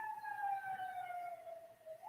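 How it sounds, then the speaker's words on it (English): An emergency siren wails steadily on its own, a sustained tone sliding slowly downward with clear harmonics, moderately loud and fairly close, with faint traffic rumble underneath. "And of course, sirens."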